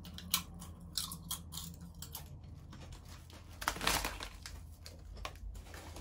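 Someone bites into and chews crispy edamame chips from a Japanese 7-Eleven, with several close, dry crunching bursts at an irregular rhythm and no talking.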